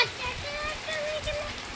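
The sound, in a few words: heavy rain falling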